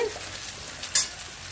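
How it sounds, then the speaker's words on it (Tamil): A steady sizzle of onions frying in a pan, with a brief scrape or stir partway through; close, no voices. "வெங்காயம் நல்லா செவந்து வரட்டும்"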